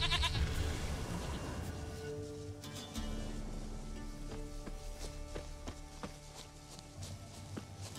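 Goat bleating in The Witcher 3: Wild Hunt, wavering repeated bleats over a busy game soundscape with footsteps and ambient music, moderately close.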